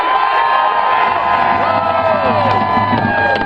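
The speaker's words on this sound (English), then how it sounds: "Somebody scream!" A crowd at an Occupy New Haven protest rally screams and cheers in a continuous loud roar, with whoops and shouting voices layered over a dense, sustained wash of noise.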